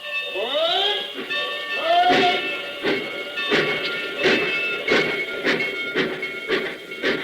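A radio-drama train arrives, its steam whistle sliding up at the start, followed by a steady run of rhythmic chuffing and clanking bursts, loud and close with hissing in between.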